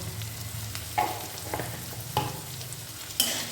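Mixed vegetables with turmeric frying for chire polao (flattened rice) are stirred in a pan: a soft continuous sizzle broken by about four scraping strokes of the spoon, close up and with nobody speaking.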